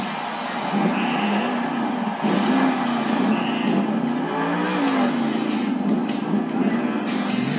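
Monster truck engine roaring through a freestyle wheelie at an arena Monster Jam show, a loud sustained revving with pitch swells and shifts, with crowd noise underneath.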